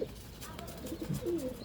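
Pigeon in a racing loft in Pandharpur, cooing softly with low rolling murmurs scattered across a short stretch, faint and near, with a light background hum.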